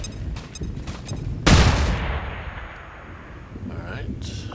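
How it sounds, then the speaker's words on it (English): In the video game XCOM 2, a thrown flashbang grenade goes off with a single sharp blast followed by a decaying hiss and a high ringing tone, heard over a game soundtrack. "Flashbang those two."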